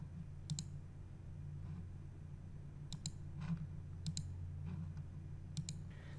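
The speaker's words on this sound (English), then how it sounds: "you click on Save and Next." Faint, sharp computer mouse clicks during setup of an SMA Sunny Island inverter, a handful of isolated single and double clicks spaced across a quiet background hum.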